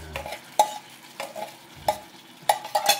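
Sticky rice cooking in coconut milk is stirred in a pan, with sharp scraping strokes every half second or so over a soft, bubbling sizzle, close and fairly quiet.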